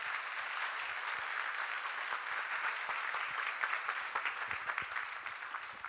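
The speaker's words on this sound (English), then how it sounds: "can we please give a big round of applause to all the speakers and presenters again?" An audience at a retreat applauds its speakers and presenters with steady, dense clapping that fills the room evenly and carries on without a break, a few sharper individual claps standing out near the end.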